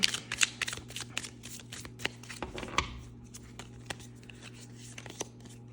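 Tarot cards are shuffled rapidly in repeated crisp riffles and flutters, close to the listener, as a clarifier card is drawn during a reading, with quieter rustles trailing off toward the end.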